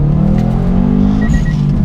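Turbocharged Subaru Impreza RB320 engine accelerating hard, a strong close rumbling drone with a rising harmonic tone and a brief whistle near the end.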